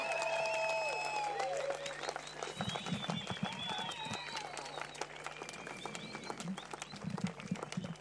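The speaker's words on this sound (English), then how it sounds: "A big round of applause for Michel." An audience applauds a surfing runner-up taking the podium at a finals-day ceremony in France. The clapping is fairly faint and scattered, with cheers, whistles and crowd chatter mixed in.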